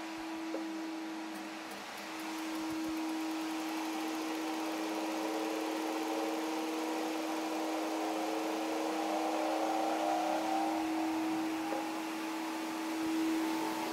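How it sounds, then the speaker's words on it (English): Vacuum cleaner and bouncy castle blower running together: a steady, droning motor hum with a strong whine that holds constant throughout, mid-distance and without any talking. "Switch on both the hoover, or vacuum cleaner"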